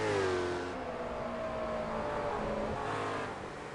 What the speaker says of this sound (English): These V8s absolutely sound perfect